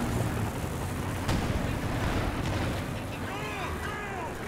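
A rocket barrage from a German Panzerwerfer rocket carrier in Company of Heroes 2 thumps and rumbles at a distance through continuous battlefield noise, with a sharp crack midway and whistling sounds near the end.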